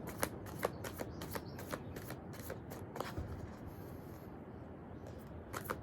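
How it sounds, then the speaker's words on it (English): An oracle card deck is shuffled by hand in rapid, crisp riffling bursts of card flicks, close and fairly quiet, continuing for several seconds with no voices. "then I shuffle the deck and just see what might unfold today"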